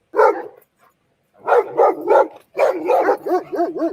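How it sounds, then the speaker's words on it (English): Dog barking repeatedly in a backyard, a burst of loud, close barks followed by a run of rapid barks and yelping howl-like calls, with no talking. "that dog is going to do exactly what it's doing right now"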